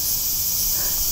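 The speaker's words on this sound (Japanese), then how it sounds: "セミの声聞こえますか？" Japanese summer cicadas drone in a dense, continuous high buzzing hiss that stays steady and loud throughout, with nothing else heard.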